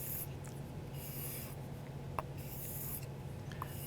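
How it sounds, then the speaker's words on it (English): A freshly whetstone-sharpened knife is dragged lightly across leather to remove the burr, giving a faint, steady dry rubbing with a couple of tiny ticks, close and quiet. "I want to put the left side down and drag it across some sort of leather to remove it"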